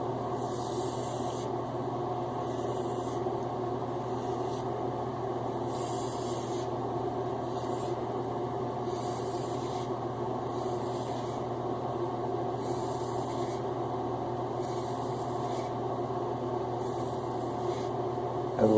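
A Gillette Tech safety razor scrapes across a lathered scalp during a head shave, repeated short rasping strokes in an uneven rhythm, close and clear over a constant low background hum.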